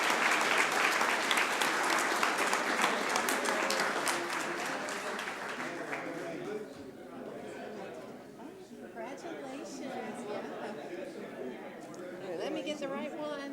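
Audience applause at a city council meeting for honorees, loud at first and then thinning out after several seconds into scattered claps and murmured chatter as people talk among themselves.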